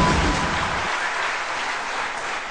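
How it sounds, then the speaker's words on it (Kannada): Audience applause at a Mysore jackpot quiz event, a dense, loud roll of clapping that begins with a brief low thump and holds steady to the end. "ಚಪ್ಪಾಳೆ ಪ್ಲೀಸ್."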